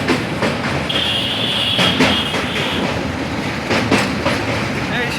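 A passenger train from Kolkata to Banaras crosses the Hooghly river with a loud, steady rumble and rhythmic clickety-clack of wheels over rail joints, heard from inside the carriage, with a thin metallic squeal riding above it.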